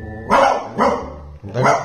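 Three deep, evenly spaced woofs from a person mimicking a big dog's bark, loud and close.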